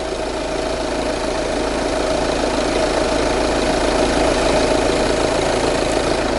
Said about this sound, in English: we'll run the engine